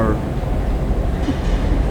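A Paris Metro train ride heard from inside the carriage, with a steady low rumble and rolling noise throughout and voices talking over it.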